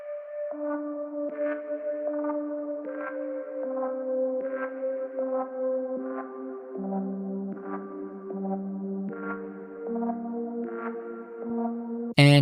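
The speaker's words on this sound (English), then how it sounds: "Then I added another instance of that same ARP, but I half-timed it" A half-timed second instance of the In Memoriam synth arp plays slower plucked notes over a shifting lower line, moving through pitch changes for several bars, clean and alone until a sharp burst at the very end.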